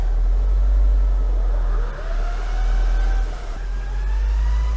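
A Citroen D Super engine drones loudly while a gear whine rises in pitch underneath, fluctuating as it accelerates in fifth gear; the gearbox has no oil in it.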